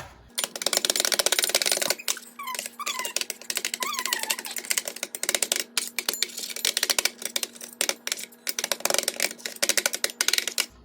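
Spatulas chop and scrape frozen ice cream into small pieces on a cold plate for rolled ice cream, loud rapid metallic clacking in dense bursts with brief pauses, a faint voice in the middle.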